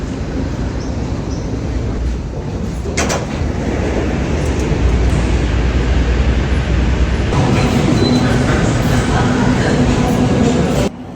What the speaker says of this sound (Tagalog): Napakalawak pala ng station dito. First time ko nga palang pumunta dito at sumakay ng high-speed train.